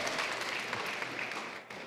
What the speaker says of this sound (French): On peut vous applaudir bien fort, Jean-Marie Leloup